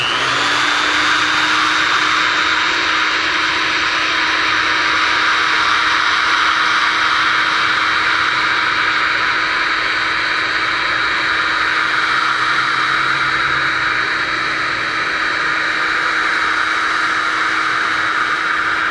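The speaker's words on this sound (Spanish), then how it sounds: "Se pone en un taladro y entonces pues ya le das aquí las revoluciones que pues vayas viendo que van quitando el rayón" A drill fitted with a polishing pad buffs scratches out of car paint, producing a loud, constant high-pitched motor whine with a broad hissing friction layer, running steadily and close throughout with no talk.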